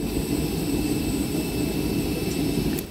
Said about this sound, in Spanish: Se encienden los motores, ya vemos el motor derecho.